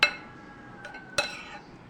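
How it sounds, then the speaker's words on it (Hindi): A spoon clinks against a bowl while mint and green chili paste is mixed into yogurt: two sharp metallic chinks with ringing tails, the second a little quieter, in an otherwise quiet room. "पीसने के बाद हम इसे दही के अंदर ऐड कर देंगे और ख़ूब अच्छे से इसे मिक्स कर लेंगे।"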